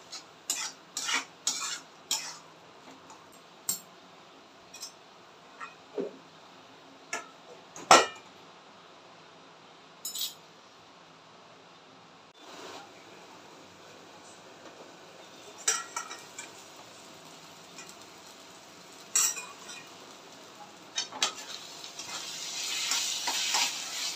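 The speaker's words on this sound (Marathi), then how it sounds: "व्यवस्थित परतून घ्यायचंय आणि 5 मिनिटाला झाकून ठेवायचं।" Eggplant bharit stir-fried in a pan, intermittent spatula scrapes and metal clinks over a faint sizzle, with sparse bursts of clatter and a louder hiss toward the end.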